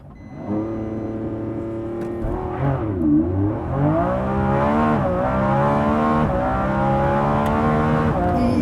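A 2024 Lamborghini Revuelto rated at 1,001 horsepower does a launch-control start in Corsa mode: a loud, close engine note holds at idle, dips, then climbs in a long, steady rising roar through the rest of the run.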